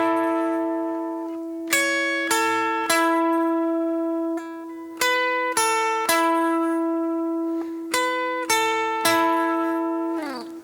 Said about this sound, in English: So I'll play it really slow without all the delays and drive